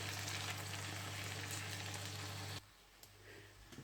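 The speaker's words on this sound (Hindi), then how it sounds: "भिंडी माशाल्लाह से बहुत अच्छे से फ्राई हो चुकी है। हाई आंच पे ही मैंने इसको फ्राई किया है।" Okra frying in oil over high heat, a dense steady sizzle with a low hum beneath that cuts off abruptly partway, leaving a quieter crackle with a few faint taps.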